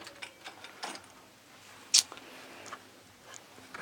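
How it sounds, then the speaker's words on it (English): A loom's warping beam cable winding back onto its friction brake, giving faint, irregular mechanical ticks and clicks with one sharper click in the middle. "wind my cable back onto the friction brake"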